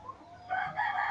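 Chickens in a battery cage on a farm, kept for laying hens, give a short clucking call at close range with no talk over it.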